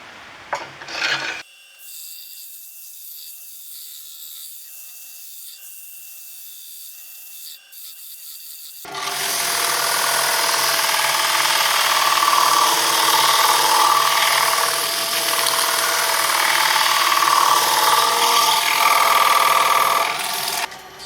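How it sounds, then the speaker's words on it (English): Sandpaper rubbing against a spinning wooden bowl on a wood lathe, a steady loud rasping hiss that starts after a quieter stretch of faint motor hum and continues evenly to the end. "So now we need to do quite a bit of sanding"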